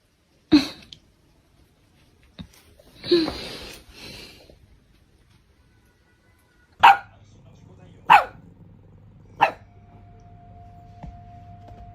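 A pet dog barks a few sharp times with gaps between, fairly close, after some brief human voices, with a low steady hum running beneath the later barks.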